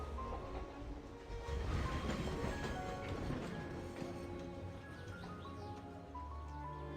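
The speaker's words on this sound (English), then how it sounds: "Just riding that train." A train ride in the video game Syberia: The World Before gives a steady rumbling rattle of rail cars, moderately loud and continuous, with clanking and bright metallic hits scattered over the sound.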